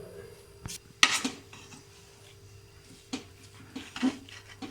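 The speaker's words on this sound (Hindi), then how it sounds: "अब इसको मैं हल्का सा मिक्स करती हूँ" A utensil scrapes and clinks in a pan while chana dal punjeeri is stirred and mixed, giving a few sharp metallic knocks and soft scraping strokes that are fairly quiet and close.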